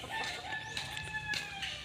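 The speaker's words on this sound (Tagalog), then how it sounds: "Nandun daw yung ibang manok." A rooster crows over chickens clucking close by, with the crow and clucks overlapping in a short, dense burst outdoors.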